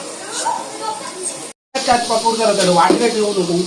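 Onion frying in a pan for village-style Konkani chicken gives a steady hiss and sizzle, briefly cut off, while a person talks over it nearby.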